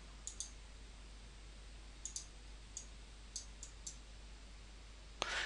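Sparse, soft mouse clicks in Photoshop, about eight light taps in small clusters over faint steady room hiss, with a sharper click at the end.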